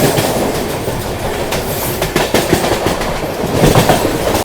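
The Banaras–New Delhi Superfast Express sleeper train rolls along the tracks, loud and near, with steady rumbling and repeated clickety-clack wheel beats over rail joints and brief metallic squeals, and no talk.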